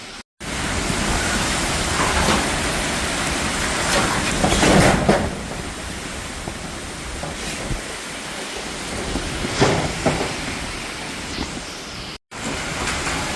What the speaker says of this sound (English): So the rain has increased once again